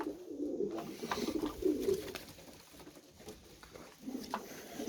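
A young yağlı kepez pigeon coos softly in a coop, low throaty rolling calls repeating near the listener, with faint rustles and patter of other birds around.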